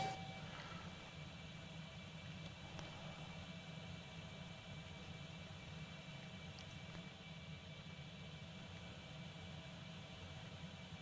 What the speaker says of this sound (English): Taxiing the Concorde is a really different feeling to all other aircrafts I have tried till now